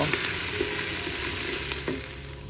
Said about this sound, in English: And now we're going to stir those in.